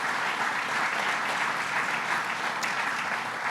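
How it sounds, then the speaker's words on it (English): Steady audience applause for County Executive Steve Bellone at a Long Island water quality event, a dense, even wash of many hands clapping throughout, with no talk on top. "Let's give him a big round of applause."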